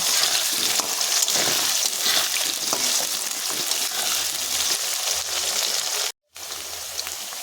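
Potatoes frying in a pan until browned make a loud, dense, continuous sizzle close by, with occasional stirring scrapes and a brief silent break near the end.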